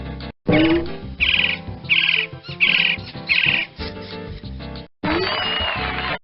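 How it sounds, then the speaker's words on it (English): Pileated woodpecker call from a 1999 Magic School Bus animals CD-ROM game, a loud series of repeated, evenly spaced high ringing notes in quick rhythm, clean and close with short pauses between bursts. "You pecked, or should I say picked, the right animal, the pileated woodpecker."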